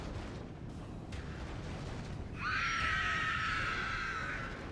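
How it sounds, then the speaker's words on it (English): A battle in the Mordor faction of the Divide and Conquer strategy game, where a distant, shrill scream rises over a dense roar of fighting and explosions partway through and then lingers. "There's the first scream."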